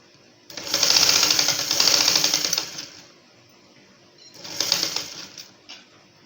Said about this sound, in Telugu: ఇలా పెట్టేసుకొని ఒక కుట్టు వేసుకుందాం క్రాస్గా